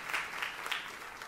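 A church congregation claps during a sermon, a moderate patter of many hands with a few swelling bursts, heard from some distance and fairly faint.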